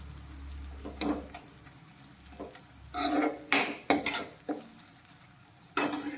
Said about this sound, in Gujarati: ચમચાથી આ રીતે થોડું પ્રેસ કરી અને તેના ઝીણા કરી લઈશું